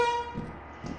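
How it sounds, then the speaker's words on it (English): A short, bright air horn blast in the video game Lethal Company sounds at first, then fades into quiet background with faint murmurs. "Air horn!"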